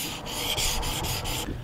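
A knife blade scraped back and forth on a wet 1000 grit whetstone, close and steady gritty rubbing with about five quick strokes in under two seconds.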